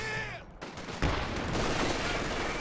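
Dense burst of MG42 machine gun fire in a video game, loud and continuous after a brief dip, with a sharp swell near the start of the sustained rattle.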